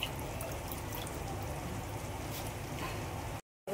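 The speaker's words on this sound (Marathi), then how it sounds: "त्याच्यात थोडंसं पाणी टाकूया." Water poured into a pan of moth beans cooking on a home stove, a steady, moderately quiet splashing and hiss that runs unbroken for about three seconds before cutting off.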